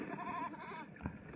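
A goat bleats in the video game There Is No Game, a wavering, tonal cry lasting about a second, fairly quiet, followed by a brief thump.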